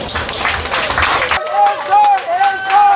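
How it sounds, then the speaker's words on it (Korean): Clapping from a crowd at an outdoor festival show in a Pyeongtaek park, a dense burst of applause that cuts off after about a second and a half, giving way to a sung melody with backing music. "이제 박수 쳐주실 거죠?"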